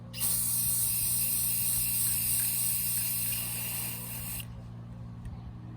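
Spray paint can hissing steadily as light gray coats a custom painted Mega Construx figure from about ten inches away, one continuous close spray burst lasting around four seconds, then cutting off to quiet room tone.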